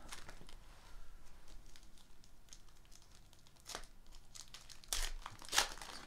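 Foil packs of 2016-17 basketball trading cards are torn open and crinkled, giving scattered rustles with a few louder rips near the end, close and fairly quiet, with no talking.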